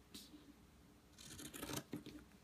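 Scissors trimming excess fabric off a quilt's binding, a few quiet close snips and crisp cutting rasps through cloth, with no talking.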